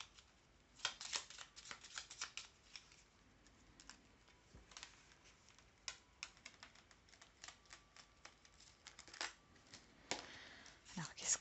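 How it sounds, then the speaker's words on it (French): Tarot cards being shuffled by hand in a quiet room, with repeated crisp riffles and slaps in irregular bursts, close and clear, while someone speaks softly at times. "Allez, je remélange une dernière fois et je tire les cartes."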